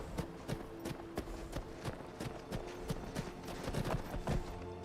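Horse hooves clip-clop at a steady walking rhythm on a road in Skyrim, a series of distinct, close hoof strikes, about three or four per second, with faint ambient background and no talk.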